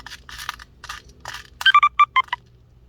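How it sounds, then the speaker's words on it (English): A quick series of short electronic phone beeps, about six in a row, close and fairly loud, following some soft rustling and handling noise during laptop disassembly. "now my phone's going to keep beeping"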